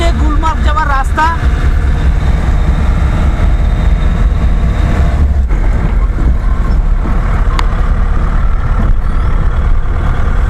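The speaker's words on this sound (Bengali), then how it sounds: "আর বরফের মাঝখানে আমরা চলেছি গাড়িতে করে গুলমার্গের পথে।" A car fitted with snow chains drives along the snowy winter road from Tangmarg to Gulmarg in Kashmir. The close engine and road rumble is loud and steady throughout, and a voice is heard briefly at the start.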